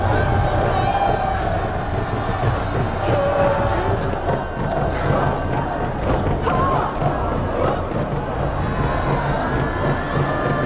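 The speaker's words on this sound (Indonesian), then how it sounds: "riuh sorakan menyambut kedatangan tawanan yang segera dijadikan persembahan pengorbanan bagi dewa" A large crowd roars and cheers as captives arrive at a Maya sacrificial ritual in the film Apocalypto, a steady loud babble of shouting voices with battle cries and drumming underneath.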